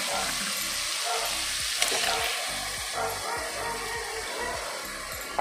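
Ground masala paste frying in oil for a Goan matki curry, a steady sizzle with irregular stirring scrapes and clinks close by, no talk.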